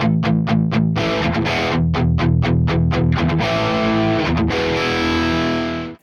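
Heavily distorted electric guitar on a Quad Cortex with a 14 millisecond doubling delay at full mix, loud and wide, plays rhythmic chugs and stabs before a ringing chord that ends abruptly; no voices.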